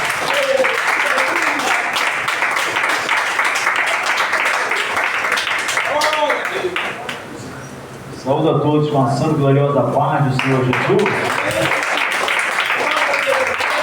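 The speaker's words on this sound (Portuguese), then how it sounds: "com as palmas bem alegres para ele" Congregation applauding in a church service, a dense wash of clapping that swells for several seconds, dips briefly, then returns strongly while someone speaks over it.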